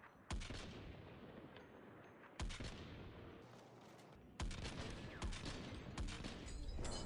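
Weapon fire in the first-person shooter Battlefield 1 rips out in three long bursts of rapid, heavy shots, each run stopping abruptly before the next begins, loud and close with a rumbling tail.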